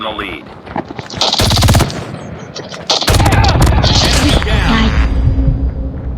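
Rapid bursts of automatic gunfire and heavy booming shots from a video game, loud and dense, with an excited voice talking over the action.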